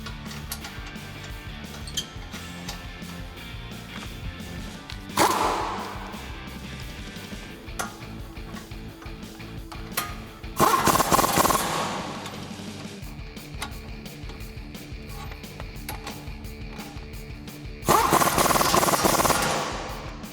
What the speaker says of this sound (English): take my 21 millimeter on my 1/2 inch impact gun and tighten